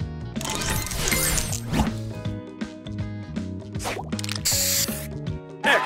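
Spray booster effect in the Match Masters mobile match puzzle game: a loud hissing spray burst amid bright chiming game tones and musical blips, with a sharp spritz near the end.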